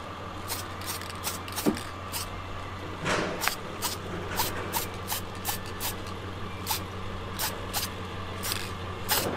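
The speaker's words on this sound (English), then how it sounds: "So I have to spray all that so it won't rust up." Short hissing bursts of anti-rust spray hit the freshly cut end of a metal brake spindle from a box Chevy with Wilwood brakes, over a low background hum.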